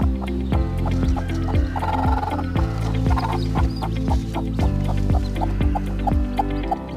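Native hens cluck in a steady, rhythmic pattern close by, with soft peeps from newly hatched chicks over a constant low hum, and no talking.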